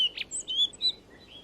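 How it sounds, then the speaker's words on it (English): Rock thrush song in the Drakensberg Mountains in late August: a string of short, high, whistled chirps and trills, moderately clear against quiet background, with a few brief pauses between phrases. "when the rock thrushes start to sing"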